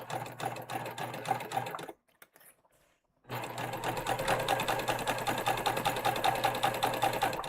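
A freshly cleaned and oiled sewing machine, lint removed, runs steadily and loudly with a fast, even mechanical whir, stops for about a second and a half, then starts up again at the same pace.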